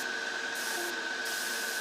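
An airbrush or spray can hisses continuously and close while paint goes onto a Tamiya 1:35 scale Russian T-55A medium tank model, a steady, unbroken spray with a thin tonal whine.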